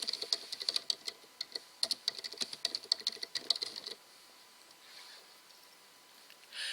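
Quick, crisp keystrokes on a computer keyboard, typed in a steady run of clicks for about four seconds, then stopping into quiet room tone.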